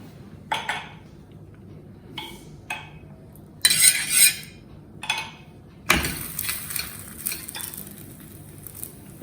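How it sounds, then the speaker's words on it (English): Cheese paratha laid onto a hot tawa, giving short bursts of sizzle and frying hiss mixed with clinks of utensils, and a stronger steady sizzle toward the end. "अब डालिए तवा पे."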